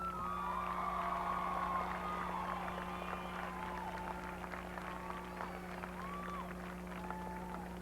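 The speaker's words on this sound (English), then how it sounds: "Let's give him another hand of applause" At a high school commencement, a crowd applauds and cheers the class valedictorian, with steady clapping and a few whoops and shouts over a constant low hum in a large hall.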